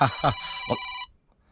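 A mobile phone rings inside an old RV: a loud, close electronic ringtone with a few pulsing notes that cuts off abruptly after about a second.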